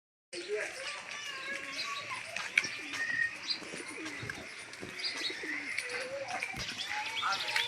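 Pigeons coo softly amid chirps and general outdoor bustle, with people talking in the background throughout.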